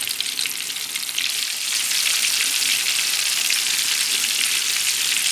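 Eggplant and minced meat balls frying in a pan, a dense, steady hiss and crackle of hot oil close by that grows a little louder partway through, with no talking.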